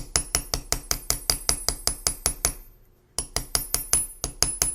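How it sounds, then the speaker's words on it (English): Rapid, evenly spaced blows of the brass side of a hammer ring on metal jewelry hoops, a steady run of sharp metallic strikes, a brief pause, then the pounding resumes. "So I'm going to go over to the brass side of my hammer."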